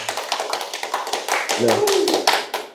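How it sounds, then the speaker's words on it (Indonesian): An audience at an Islamic religious lecture claps in a quick, dense patter of hands, fairly close, while voices continue under and around the applause. "Tepuk tangan."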